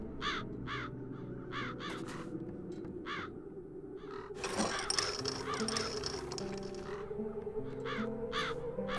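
Crows caw in The Dark Eye: Chains of Satinav game, giving a rapid run of loud harsh calls followed by more scattered caws over a steady ambient game soundscape.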